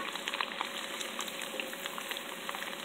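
Garlic frying in oil for homemade chili oil, a dense continuous bubbling sizzle with scattered pops, close and even, with no speech.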